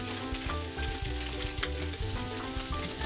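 Garlic with salt and seasonings sizzles in a hot pan, a steady close frying hiss with light stirring over it and no talk.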